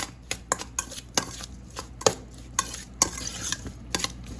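Black plum salsa being mixed with mustard oil in a pot, a run of rapid, close scraping and tapping strokes from a spoon, roughly a dozen distinct hits in quick irregular rhythm, with no voices.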